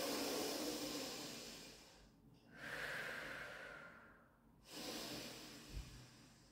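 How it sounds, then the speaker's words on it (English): Deep breaths taken during a gentle stretch in a cardio and abs workout: slow, audible inhales and exhales with brief pauses between them, close to the microphone, with no talking. "Just take some deep breaths."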